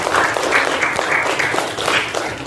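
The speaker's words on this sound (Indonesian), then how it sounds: "kasih aplaus" Applause from a classroom group after a student's answer in a lesson on Islamic teachings, a steady broad patter of many hands continuing for a couple of seconds without pause.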